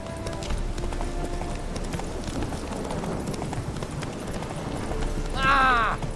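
Hooves clip-clop steadily as a horse named in The Witcher 3 moves along in-game, a rhythmic clatter under ambient game sound, ending with a louder swell near the end.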